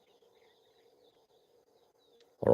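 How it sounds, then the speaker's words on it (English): Faint, distant birdsong drifts through a quiet pre-dawn valley at a meerkat reserve, thin tonal calls over near silence, broken at the very end by a sudden loud close rustle or bump. "bird chorus coming through now."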